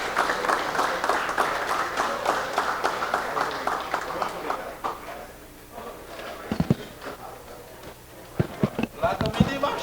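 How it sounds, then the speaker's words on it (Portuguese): Deputies in a legislative chamber applauding the commission, with a dense round of clapping that fades after about five seconds, followed by scattered, sharper individual claps and some voices. "uma salva de palmas para a comissão"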